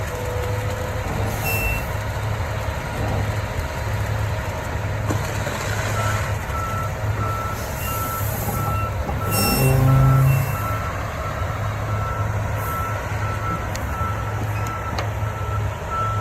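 A concrete truck pours the footers and pad for a grain bin house, its reversing alarm beeping steadily over a constant diesel rumble, with a brief louder engine surge midway.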